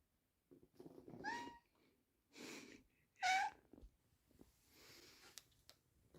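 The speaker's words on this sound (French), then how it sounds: "C'est un chat qui fait des bisous." A cat vocalizing up close in a quiet room: a few short meows and soft breathy, snorting sounds spread across several seconds with pauses between, faint overall and without talk.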